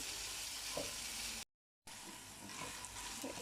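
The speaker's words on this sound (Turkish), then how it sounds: "Üçünü beraber tekrar kavurmaya devam edeceğiz." Minced meat stir-fries with cauliflower and other vegetables in a pan, giving a steady, close sizzle with occasional stirring scrapes and a brief silent gap partway through.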